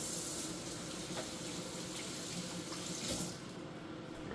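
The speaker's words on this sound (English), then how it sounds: "I'm just going to wash my hands quickly." Water runs steadily from a kitchen tap while hands are washed beneath it, a close, continuous splashing hiss that cuts off near the end and leaves quiet room tone.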